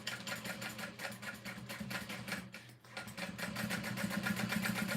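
A sewing machine stitches steadily over a D-ring connector on a small bag, with a fast continuous whir and a brief dip near the middle before the stitching resumes, close and alone.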